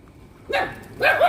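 Street puppies at a night feeding give two quick, close, high-pitched yapping barks.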